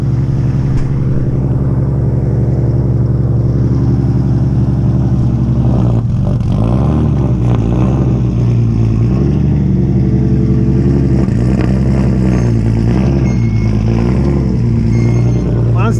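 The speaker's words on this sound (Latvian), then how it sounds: "Sildo motoriņus." BMW E46 cars warming up with engines running: a loud, steady idle drone with slight rises and dips in pitch throughout, and voices talking over it.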